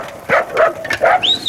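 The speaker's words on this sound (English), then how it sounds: "The dogs are Australian shepherds" Australian shepherd herding dogs bark at a bull riding event, giving a quick run of four or five sharp yips and barks, close and fairly loud, ending in a rising whine.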